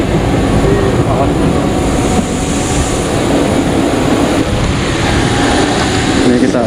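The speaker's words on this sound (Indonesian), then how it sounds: "Kita sudah naik di pesawat." Loud, steady engine drone fills a passenger airplane cabin on a flight from Makassar to Surabaya, a constant roar with faint cabin noises and muffled voices beneath it.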